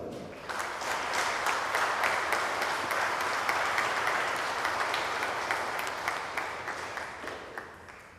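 A crowd applauds steadily, many hands clapping in a dense, sustained burst that starts abruptly and gradually thins toward the end.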